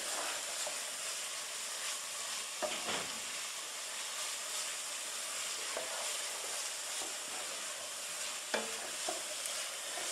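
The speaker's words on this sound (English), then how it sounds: "The heat and with the butter is going to make all of these vegetables sweat" Onion, leek, celery and mushrooms sweating in butter in a pot for mushroom and tarragon velouté make a soft, steady low sizzle, with occasional quiet clinks of stirring and no talk.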